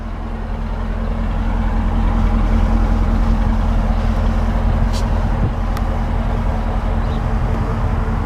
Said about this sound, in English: That growl now comes from these much bigger twin chrome exhaust tips.